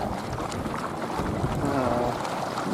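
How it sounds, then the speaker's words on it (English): Strong wind roars steadily over open water at a radio-controlled IOM sailboat race off Corpus Christi, Texas, a constant broadband rush with buffeting gusts against the microphone and faint splashing beneath, no voices. "Really big wind."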